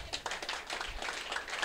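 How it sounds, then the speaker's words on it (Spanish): A church congregation applauding during an evangelical service: a short, steady wash of many hands clapping together, fairly quiet and even throughout, with no voices standing out. "Dele un aplauso a Cristo."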